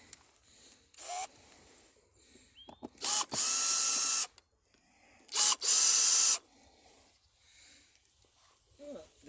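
A power drill whirs in several short, loud bursts as it backs screws out of a wooden no-dig raised bed, with quiet pauses and brief talk between runs.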